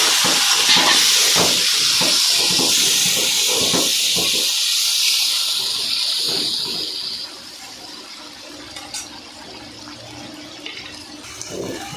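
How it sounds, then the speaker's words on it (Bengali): Masala of dry chilli, ginger and ground cumin sizzles hard in a pan right after a splash of water goes in, a loud steady hiss that slowly eases and quiets toward the end, with scattered crackles. "একটু জল দিয়ে কষিয়ে নেব"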